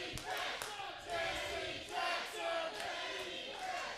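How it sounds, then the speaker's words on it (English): Wrestling crowd at a UCW Zero show chanting a wrestler's name in rhythmic, repeated waves, heard at a moderate distance with a broad roar of voices rising and falling. "Crowd now chanting Manny Fresh"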